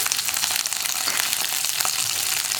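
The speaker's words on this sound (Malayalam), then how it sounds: "ഇതിനെ ഒന്ന് വഴറ്റിയെടുക്കുക." Onions, green chili and curry leaves sauté in a hot pan with oil, giving a steady, close, dense sizzle and crackle that runs unbroken throughout, with no voices over it.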